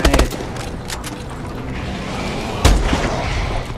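Gunfire and blasts in the Exo Zombies video game, a loud opening burst followed by a rattle of rapid shots and a second heavy boom partway through, close and forceful.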